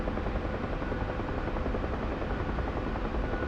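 A Huey helicopter's rotor thumps in a steady, rapid beat over a dense engine drone, loud and close from the cockpit in DCS, with no talk.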